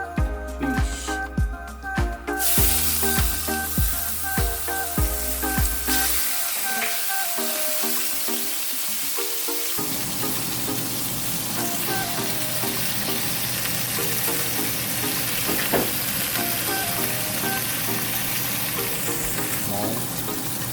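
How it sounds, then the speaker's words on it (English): Steak fries in extra virgin olive oil with a strong, continuous sizzle and crackle that stays loud and close throughout. A brief stretch of other clattering sound comes first. "Now I'm going to flip the steak, flip it over."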